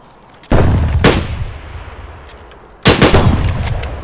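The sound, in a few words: shotgun gunfire in the video game Escape From Tarkov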